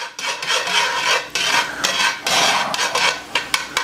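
Shallots being stirred with a utensil in a very hot cast iron pan, giving a loud, continuous rasping scrape with sizzling and repeated scraping strokes, heard up close with no talk.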